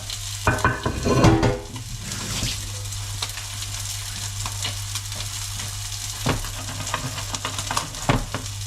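Red mullet fries in a hot pan with a steady close sizzle, broken by a few scraping stirs and clicks near the start and scattered sharp crackles afterward.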